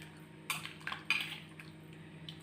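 A spoon clinks and scrapes against a pot a few times while stirring raw brinjal tamarind pulusu; sharp metallic taps stand out over a quiet room hum, with no talk.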